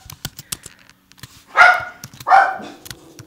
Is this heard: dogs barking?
yes